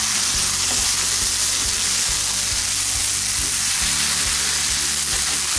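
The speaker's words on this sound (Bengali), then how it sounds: "এখন আমি এটাকে নেড়ে দিচ্ছি।" A vegetarian papaya dish frying in a pan while being stirred, giving a dense, continuous sizzle with scattered soft scraping knocks and no voices.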